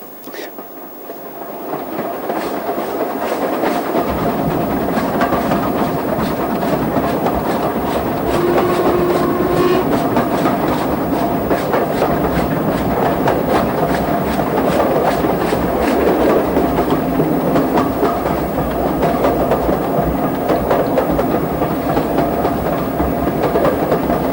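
A train runs on the Axminster to Lyme Regis branch line, climbing across a valley over a jack arch, with a steady loud rumble and rhythmic wheel clatter that continue throughout.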